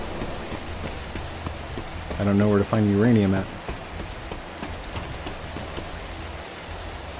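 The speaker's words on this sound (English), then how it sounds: "Danger, lightning storm." Dense, steady rain from a lightning storm in the survival game Outpost Zero pours continuously, with no distinct thunderclap standing out; someone speaks briefly over it partway through.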